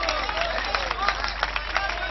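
An audience at a poetry recital claps. The applause is brisk and patchy, with scattered hand claps over a steady background hum, and it is fairly close.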